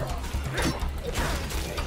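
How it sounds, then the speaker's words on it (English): Weapon reload in State of Decay 2: a steady run of mechanical clicks and ratcheting clacks, fairly close and continuous, with no talk over it. "I need this reload to get finished"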